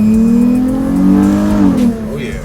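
A Dodge Charger with a front lip fitted accelerating on a test drive, a loud, close engine tone rising in pitch and then easing off, with wind and road noise inside the cabin.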